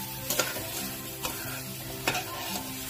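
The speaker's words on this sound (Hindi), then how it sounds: "फ्लेम को हम लोग मीडियम रखेंगे और कैरेट को अच्छे से रोस्ट कर लेंगे। बीच बीच में ऐसे चलाते रहेंगे" Grated carrot roasting in ghee over a medium flame, stirred now and then: a steady soft sizzle broken by a few scraping stirs of a spoon against the pan, close and fairly quiet.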